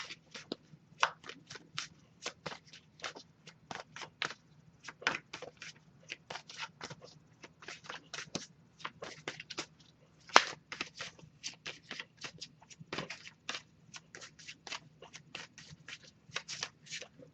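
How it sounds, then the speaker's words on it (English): An oracle card deck is shuffled by hand in a steady run of crisp riffling and flicking bursts over about seventeen seconds, close and fairly quiet, with one sharper snap partway through and no speech. "I'll give it a few more shuffles though"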